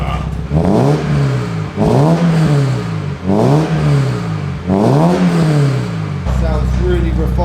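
A Peugeot 306 GTI with a new bespoke custom exhaust revving four times in a row, each a loud close rising then falling engine sweep, before it drops back to a steady rumbling idle.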